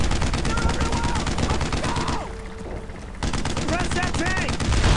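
Heavy rifle and machine-gun fire is aimed at a tank in a Brothers in Arms battle: dense, rapid bursts of loud shots, a brief lull in the middle, then more sustained gunfire with shouting mixed in.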